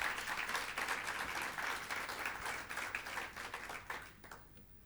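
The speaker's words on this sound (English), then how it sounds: "can we just thank them also with a round of applause?" Guests at a council awards dinner give a round of applause, a steady wash of many clapping hands that fades out toward the end.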